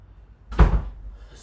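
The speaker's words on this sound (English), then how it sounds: "Let me close this door." Indoors, a door swings shut with a single solid thud and a brief rattle, close and fairly loud, in an otherwise quiet room.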